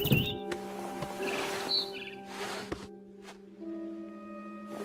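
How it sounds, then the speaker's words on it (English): Bright barn swallow chirps and tweets in short bursts over a sustained synthetic musical tone, from the game What Remains of Edith Finch. "Then I heard chirping outside my window. It was a barn swallow going back to her nest."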